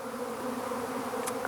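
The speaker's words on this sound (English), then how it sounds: "We got the bees down here really hitting the pollen, dry pollen substitute really hard." Honey bees buzz steadily around dry pollen substitute in an apiary, a continuous close droning hum of many wings with no voices.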